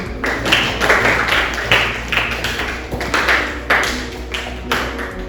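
Classroom applause during a chemistry lesson: a short, steady run of clapping from a group, the rhythmic claps close and fairly loud throughout.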